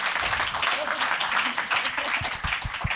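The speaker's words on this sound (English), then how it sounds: "Can we give a big round of applause to our brilliant panel?" A symposium audience gives a round of applause to a panel, a continuous crowd clapping texture with a few louder, closer claps near the end and some talk blended in.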